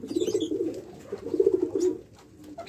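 Doves nesting with newly hatched chicks give low, rolling coos in two close bursts, near and clear, then fade to quiet.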